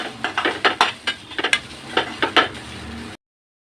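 Masala paste for clams sukka is stirred and fried in a pan, a quick series of spatula scrapes and knocks in an uneven rhythm, close and clear, ending abruptly.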